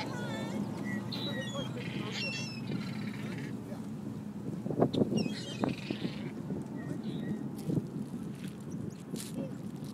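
Little birds chirping and quacking nearby outdoors, scattered calls in short bursts layered over soft background murmur and some talk.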